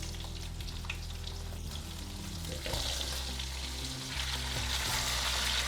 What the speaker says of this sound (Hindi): तो राई स्प्लटर होने लग गई है। अब हम डाल देंगे पेठा।